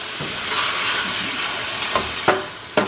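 Chicken breast seasoned with salt, pepper and dried minced onion sizzles steadily in a pan under a splatter shield, a loud continuous hiss with a few sharp pops and clicks near the end.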